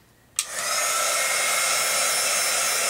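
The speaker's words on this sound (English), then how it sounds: "I'm going to go ahead and dry this one with the heat gun" A heat gun switches on with a sharp click, then blows a loud, steady whooshing whine close by while drying a mixed media artwork, continuing evenly without talk.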